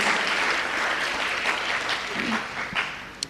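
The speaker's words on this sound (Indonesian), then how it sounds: "kalau mau tepuk tangan yang meriah pada Tuhan" A church congregation claps together after a sermon, steady, moderately loud applause from many people that holds for a few seconds before tapering off.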